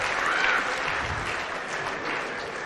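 Steady applause from the crowd at the 2021 US Open 9 Ball quarter finals follows Alaysius Yapp's banked pool shot, a dense even patter of many hands clapping throughout.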